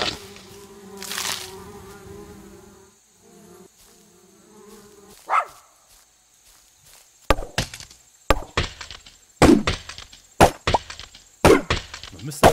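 Axe chopping wood in the video game AdventureCraft: after a stretch of insect-like buzzing, a run of sharp, irregular woody thwacks starts up, close and fairly loud, with no talk.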